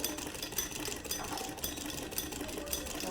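Sewing machine stitching a shalwar, running in a steady, even mechanical chatter with light rhythmic ticking throughout, close and unbroken, with no voices.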